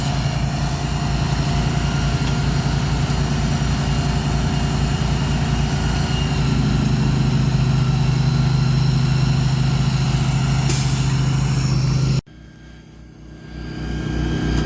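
A big semi truck's diesel engine idles loud and steady nearby while the rig gets ready to haul a cabin, with a low droning rumble and a rising tone in the middle, then an abrupt drop to a quieter running hum.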